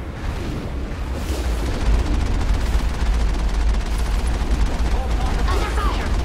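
Gunfire in the Mass Effect video game: a dense, continuous wash of rapid shots and low rumbling blasts, loud and sustained throughout, with a voice speaking over the battle.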